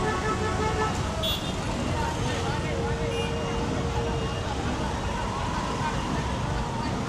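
Busy road traffic in Thirunelvely, Jaffna during Pongal celebrations, a dense constant roar of passing vehicles and buses with occasional horn toots, people talking faintly under the din.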